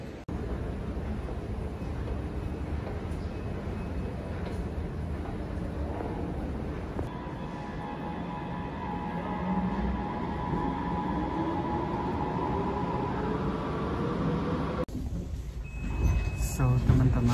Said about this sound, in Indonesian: sekarang kita udah di kereta